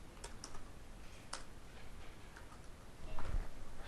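Quiet keystrokes on a computer keyboard while entering program code, a few soft irregular clicks with brief pauses, faint and close.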